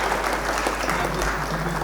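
An audience at a Hindi comedy poetry gathering claps for an MLA, a dense, continuous wash of applause heard close and loud from start to finish.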